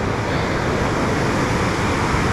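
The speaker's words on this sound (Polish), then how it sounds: "jest wodospad, taki Niagara" Waterfall by a river near an abandoned farm, a steady, loud, broadband rushing roar of falling water that stays constant throughout with no talk.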